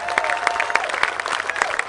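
A boxing event audience applauds a boxing team in Omaha, brisk close-up clapping with distinct individual claps over a crowd murmur.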